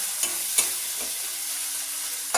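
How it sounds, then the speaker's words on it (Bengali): Tomatoes fry in a pan with a soft continuous sizzle, broken by a few sharp scrapes and knocks of a stirring spoon, close and fairly quiet. "টমেটোটা ততক্ষণ ভাজতে হবে যতক্ষণ না টমেটোর কাঁচা গন্ধটা চলে যায়"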